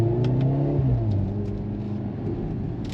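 A 2023 Mercedes-AMG C43 pulls hard in first gear in manual mode, its engine note rising in pitch as it revs up, then dropping back into a steady, close rumble.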